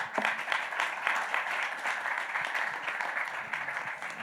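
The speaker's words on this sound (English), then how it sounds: "round of applause" A conference audience at a corporate event breaks into sustained applause, dense steady clapping from many hands filling the whole stretch at moderate loudness with no speech over it.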